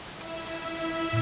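Steady rain falls in the Dragon Quest XI video game, a dense continuous hiss of drops on surfaces with a low sustained hum underneath and no voices.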